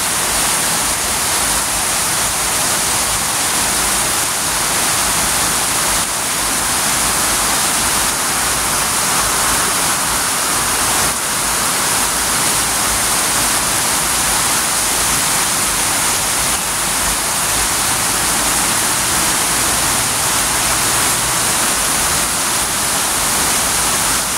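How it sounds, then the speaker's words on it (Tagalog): Steady, dense roar of heavy rain pouring continuously in Cotabato City, Philippines, loud and unbroken throughout with no voices. "kasi ang lakas ng ulan"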